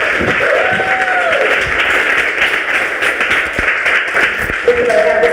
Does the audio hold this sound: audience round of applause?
yes